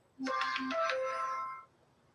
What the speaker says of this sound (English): Oh, Mike's on the phone.